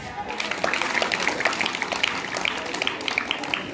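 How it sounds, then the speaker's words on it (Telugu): School event audience clapping steadily together at a vote of thanks, a bright rhythmic patter of many hands heard from within the crowd for several seconds. "క్లాప్స్."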